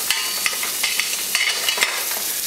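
Hash browns fry in a pan with a steady, bright sizzle and crackle, close and continuous, with small pops and scrapes throughout.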